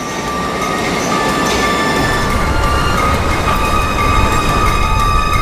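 Steady, loud rumble of a São Paulo Metro subway train in motion, with rolling wheel noise and faint high squeals throughout.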